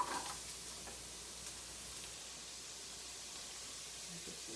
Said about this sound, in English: So I'm going to throw in some carrots.